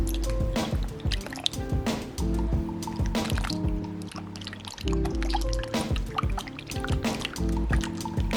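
Hands being washed under running water at a kitchen sink during bread making, with a steady splashing and dripping stream close by, uneven squishy bursts as the hands move through it, and no talking.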